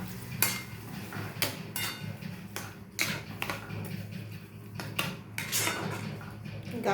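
Spoon stirring a milk powder mixture in a pan for a sweet winter carrot dessert, with repeated metallic scrapes and clinks in an uneven rhythm, close and moderately loud.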